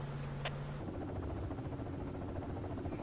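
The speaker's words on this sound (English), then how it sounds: "That's our helicopter." A helicopter in the military game Project Reality whirs steadily with a constant rotor buzz, heard at moderate distance without talk.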